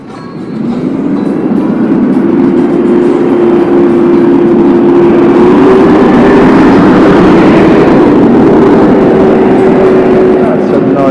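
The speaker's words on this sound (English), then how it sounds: "That's a noisy school bus going uphill." A noisy school bus engine labours uphill, a loud steady drone with a sustained low hum that rises and holds for several seconds, heard close and without talk.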